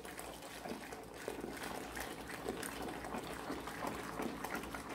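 Room-temperature water being poured into a thick homemade fabric softener base made with cornstarch, a steady splashing, gurgling pour lasting several seconds at close range, with no talking.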